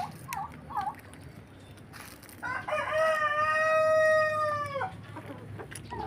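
A Rhode Island rooster lets out one long, clear cock-a-doodle-doo nearby, preceded by a couple of short clucks from chickens in the flock.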